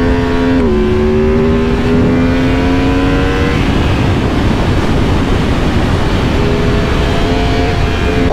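A Yamaha MT-10 motorcycle engine is revved at full throttle, a loud, close, continuous roar whose pitch climbs steadily, then blurs into a broad rushing drone with wind noise.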